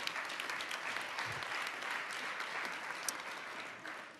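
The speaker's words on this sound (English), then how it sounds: "Can we give them a round of applause, please?" Audience applause fills an ECOSOC chamber at a senior-level development cooperation meeting: a steady, dense wash of clapping from a large seated crowd, moderately loud and continuous throughout with no talk over it.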